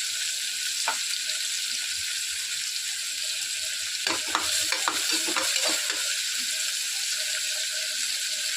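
Onions and green chillies sizzle steadily in a hot pan, a constant bright frying hiss broken midway by a short burst of scraping stirring clatter, close and alone without voices.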